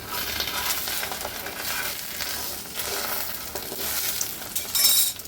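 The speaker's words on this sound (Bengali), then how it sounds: "তাই 2টা ডিম ভেজে দিলাম। একটু লবণ ছিটা দিয়েছি, একটু লাল মরিচ দিয়েছি।" Two eggs frying in a pan seasoned with salt and red chilli, a steady broadband sizzle throughout with soft scraping, close and fairly loud, with a brief bright clink near the end.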